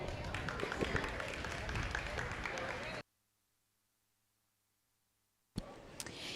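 Crowd applause at a county goat show arena, dense continuous clapping for about three seconds that cuts off abruptly into silence, then resumes briefly near the end with a sharp burst.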